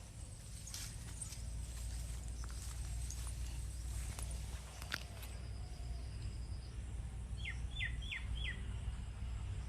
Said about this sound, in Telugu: నాకు బ్యాక్గ్రౌండ్లో బర్డ్స్ సౌండ్స్ అనేది నాకు చాలా ఇష్టమవుతుంది